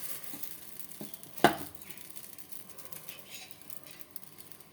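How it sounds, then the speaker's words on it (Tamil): Mini dosa batter on a hot griddle gives a faint, steady sizzle with light pattering and one sharp tap of a utensil, heard close and without voices. "இப்போ பாருங்கள், குட்டி குட்டியாக மினி தோசை மாதிரி விட்டுக்கலாம்"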